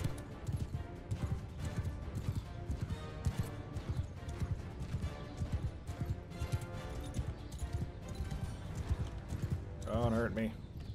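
Rapid rhythmic hoofbeats of galloping horses in the video game Mount & Blade II: Bannerlord pound steadily throughout, dense and loud, with voices and battle noise mixed in and a brief horse whinny near the end.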